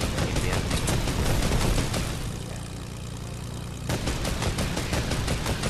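Rapid gunfire from a Fortnite match, dense bursts of shots crackling through the opening two seconds, easing into a lower engine-like hum, then resuming with sharp repeated shots near the end; no one speaks.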